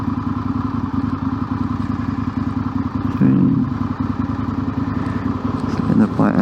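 A motorcycle idles with a steady, loud engine rumble before being put into first gear and pulling away, with a clunk and a rise in engine note partway through.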